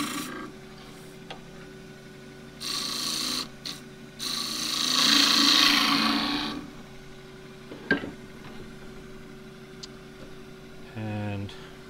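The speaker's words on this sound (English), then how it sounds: "So first thing is to true up the outside, 3/4 inch skew" Huon pine spinning on a wood lathe while a 3/4 inch (20 mm) skew chisel trues the outside of a tower box, giving intermittent raspy cutting bursts of several seconds with quieter gaps between.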